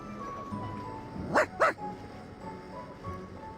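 Two quick, close barks from a dog in the game Reverse: 1999, sharp and back to back over faint background music.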